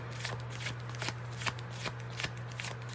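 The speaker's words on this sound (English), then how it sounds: "We're just going to go ahead and pull the rest of these cards out." Tarot cards being drawn and handled during a reading, with a quick run of crisp riffling card snaps and shuffling strokes over a steady low hum, close and fairly loud.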